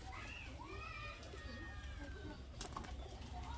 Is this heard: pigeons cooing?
yes